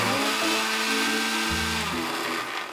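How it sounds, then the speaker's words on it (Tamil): A mixer grinder whirs steadily and loudly as it grinds boiled peas with spices and salt into a coarse sundal masala, its motor pitch shifting slightly partway through, with no talking. "இப்போ நம்ம இதை அரைச்சி எடுத்துக்கலாம்."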